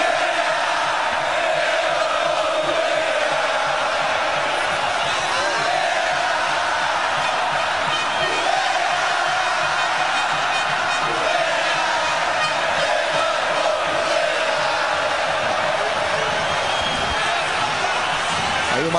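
Flamengo supporters in a packed stadium during the 2009 Brasileirão final against Grêmio roar and chant in a dense, continuous wall of crowd noise, with a commentator's voice running over it.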